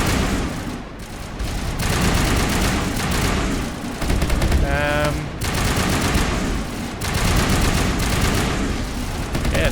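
Automated turrets in Mass Effect firing rapid, sustained bursts of loud gunfire that run almost without a break, with heavier thuds mixed in and a short voice or tone sounding partway through.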